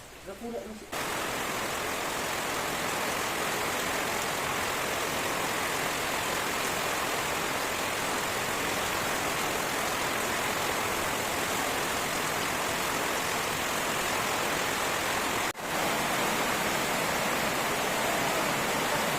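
Steady, dense broadband rush of heavy rain pouring continuously, loud and close, with a brief dip near the end.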